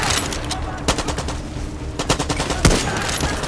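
Rapid, loud machine gun bursts from the Far Cry 6 Pagan Min DLC mode crackle in dense, close volleys with a heavier shot near the end, under occasional faint talk.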